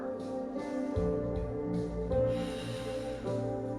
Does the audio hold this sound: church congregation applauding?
no